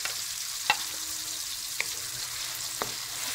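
Garlic frying with onions in a pan for Filipino eggplant adobo, a steady close hiss of sizzling oil with a few faint clinks of a utensil against the pan.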